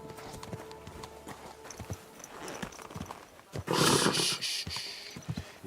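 A horse's hooves clip-clop in a steady rhythm in the medieval game Kingdom Come Deliverance 2, with a louder rushing snort or whinny partway through, all heard close.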